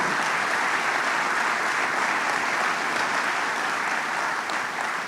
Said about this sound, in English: How about a round of applause for all the great talent in the room today?